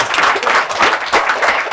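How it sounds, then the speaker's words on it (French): A TV studio audience applauding loudly, a dense, continuous wash of many hands clapping close by for the whole short stretch. "on applaudit très très fort pour notre public"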